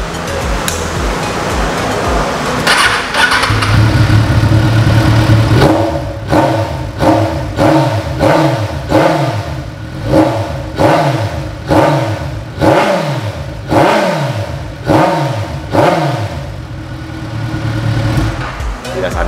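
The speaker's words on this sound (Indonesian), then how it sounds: "Kita coba lihat ini motor Ninja 1000." A Ninja 1000 motorcycle with an AKGP exhaust fitted with a dB killer idles, then revs repeatedly in quick rhythmic blips, each rising and dropping. The engine sounds close and loud, with people talking over parts of it.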